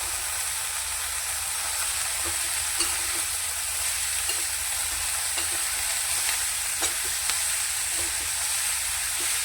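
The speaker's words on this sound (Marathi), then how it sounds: "याला चांगली तेलामध्ये होऊ द्यायची भाजी अशी पटकनच होते" Chiu bhaji, a Maharashtrian leafy vegetable, frying in hot oil in a pan, with a steady broadband sizzle and occasional scraping clicks of stirring throughout, close and fairly loud with no talk.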